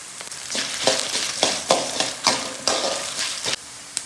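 Coriander seeds, dried red chillies and curry leaves fry for a masala, stirred with rhythmic scraping strokes over a close, crackling sizzle.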